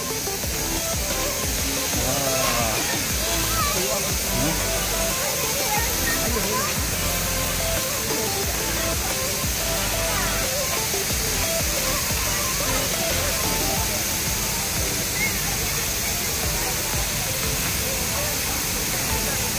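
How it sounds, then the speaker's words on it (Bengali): Water pouring down from above at an eco park waterfall, a loud, constant rushing roar filling the whole scene while people talk over it. "তো এই উপর থেকে হচ্ছে জলগুলো পড়ে।"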